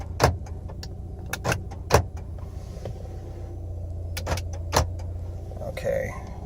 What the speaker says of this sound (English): So first of all, power locks.